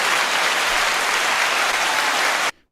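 Loud crowd applause, steady dense clapping that fills the space for about two and a half seconds before cutting off abruptly into near silence.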